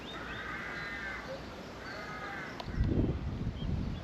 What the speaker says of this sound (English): And parrots.